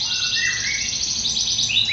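A canary sings a continuous stream of bright, rapid chirps and trills, close and clear over faint background hiss, without any speech.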